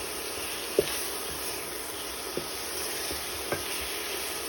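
Smoked snails are stirred into a pepper sauce in a pan, with a soft continuous sizzle and a few light spoon knocks over a steady background hiss.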